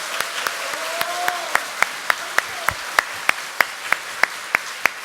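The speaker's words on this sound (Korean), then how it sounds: "감사하다는 의미에서 박수 한번 보내주시죠" An audience at a public hearing on the Pohang earthquake special act claps for members of parliament: sparse, evenly spaced claps from a few hands, steady and moderately close, over a faint murmur of the room.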